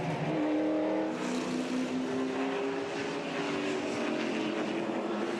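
NASCAR Pinty's Series stock cars at Canadian Tire Motorsports Park, with the race leader coming off turn 3 on lap 18, roar at a steady, loud pitch with a faint whine, and engines blending into a continuous drone without talk.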